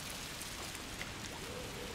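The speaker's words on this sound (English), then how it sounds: "Oh, look at the rain!" Steady rain falls in A Plague Tale: Requiem during a miserable winter scene, a dense, even hiss of drops hitting surfaces that holds at a constant level across the whole moment with no voices.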